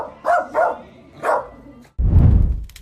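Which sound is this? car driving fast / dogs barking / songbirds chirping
dogs barking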